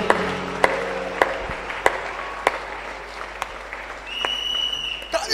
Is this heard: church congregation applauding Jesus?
yes